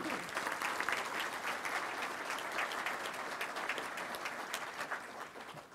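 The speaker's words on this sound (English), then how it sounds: "let's give Simmons and all of our great sponsors a round of applause" Audience applause at a touchdown club luncheon, a steady wash of many hands clapping that holds for several seconds and tapers slightly at the end, moderately distant and with no talk over it.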